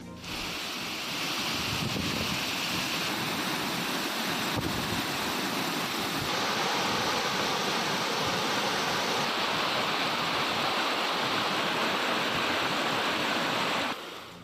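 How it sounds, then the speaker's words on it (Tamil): Megamalai waterfall near Andipatti, flooding after continuous heavy rain, gives a loud, steady broadband roar of rushing water that holds constant throughout with no voices. "தொடர் மழையால் ஆண்டிப்பட்டி அருகே மேகமலை அருவியில் வெள்ளப்பெருக்கு."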